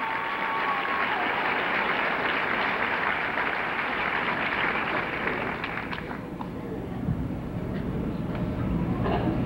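Loud, continuous applause from an audience at a 1991 university Jamboree show, honoring a band; the clapping roars steadily for the whole stretch with a brief dip midway.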